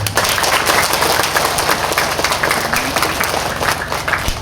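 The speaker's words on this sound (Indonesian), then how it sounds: "Tepuk tangan untuk Tuhan." Catholic parish congregation clapping at a welcome celebration for a newly ordained priest, loud and close, a thick, continuous burst of many hands with a faint low hum underneath.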